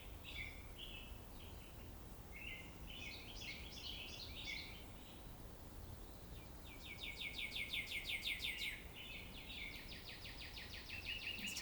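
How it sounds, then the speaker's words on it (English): Morning birds sing loudly outdoors: bursts of bright chirps and trills repeat throughout, growing busier and denser partway through over a soft background hiss. "the birds are loud this morning."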